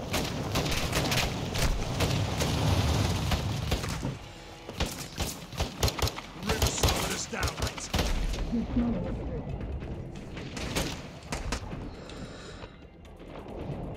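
Gunfire in the Modern Warfare II shooter game, bursts of loud, sharp, close shots and heavy crashes that come thick at first, then thin into scattered reports, with a voice speaking over part of it.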